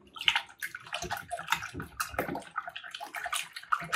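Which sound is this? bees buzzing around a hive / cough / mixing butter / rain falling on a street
mixing butter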